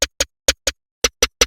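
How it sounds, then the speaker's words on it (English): Chop snare drum sample from a beat: seven short, crisp, snappy hits in an uneven pattern of pairs and a triplet, close and isolated. "This is the chop snare, which sounds like this"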